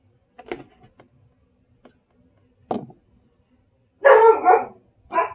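A dog gives a few sharp, isolated barks separated by quiet gaps, then a louder, longer bark burst close by near the end.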